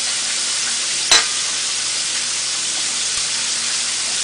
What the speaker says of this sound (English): pop it right onto your griddle and have it grill up on each side